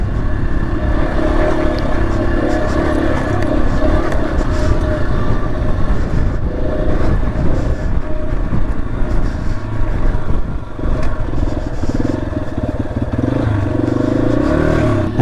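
A Yamaha XT250 motorcycle with an old, weak battery is bump started, its engine clattering and running loudly and steadily throughout, close by and without talk.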